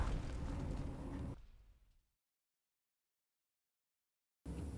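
In the video game Blue Archive, a loud, rumbling blast from an explosive blowing open a door fades out over about half a second into total silence, then another burst of noise cuts in abruptly.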